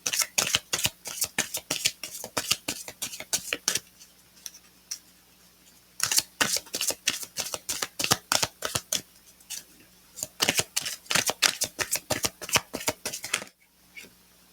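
A Goddesses oracle card deck shuffled and drawn by hand, giving close bursts of rapid crisp card flicks and snaps separated by short quiet pauses.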